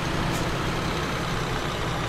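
Heavy truck engine and road rumble in Euro Truck Simulator 2, a steady loud drone as a truck changes lanes and overtakes on the highway.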